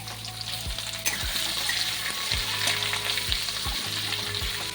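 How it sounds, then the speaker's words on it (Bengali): Onions sizzle steadily in a pan while a one-pan chicken rice dish is cooked, with a spatula scraping and stirring about six times in a loose rhythm, close and fairly loud throughout. "এবার আমি পেঁয়াজগুলো দিয়ে দিচ্ছি। পেঁয়াজগুলো একটু লাল করে ভাজতে হবে"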